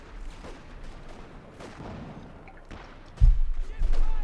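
Scattered gunfire and heavier blasts ring out in a Company of Heroes 2 battle with light machine gun teams, including one loud booming hit near the end, over a low background din.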